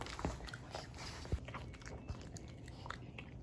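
A miniature pinscher chews meat up close, with irregular soft biting and smacking sounds and a few sharper crunches over a quiet indoor background.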